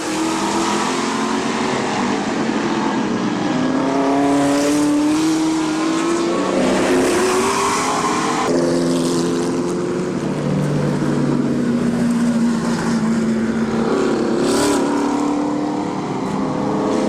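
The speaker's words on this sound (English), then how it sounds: "So yellow flag out as Martin loops it right in front of your runner-up in this race" Race cars roar continuously around an oval raceway at Barberton Raceway Park, engines rising and falling in pitch as they pass, loud and sustained with overlapping motors throughout.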